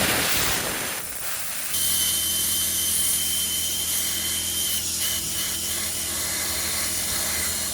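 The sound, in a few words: pressurized air blown through Bronco II fuel lines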